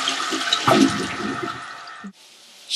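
A toilet flushes close by with a loud rushing swirl of water that drains away after about two seconds, followed by the quieter hiss of the tank refilling.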